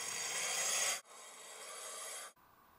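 A wide, hard-steel knife edge is rubbed and scraped along an abrasive surface to dull it, making two loud, sustained broadband rasping strokes followed by a quieter, brief third stroke, close up with no talking.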